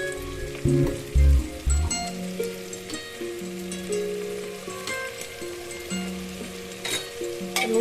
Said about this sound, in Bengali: ও পাকা লঙ্কাটা দিয়ে সমস্ত মশলাগুলো দিয়ে আমি কিন্তু ভালো করে নাড়তে থাকছি